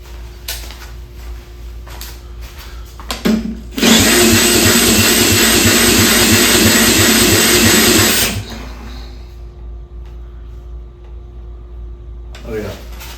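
Toro small engine cranked with a socket on a power tool, a loud whirring, buzzing burst lasting about four seconds between quieter moments, with a brief mechanical clatter just before it.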